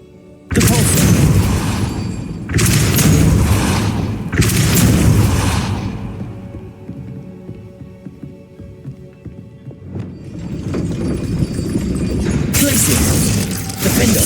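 Depulso spell effects in the Hogwarts Legacy video game land as three heavy booming blasts in quick succession, a quieter rumbling gap, then another loud burst building near the end.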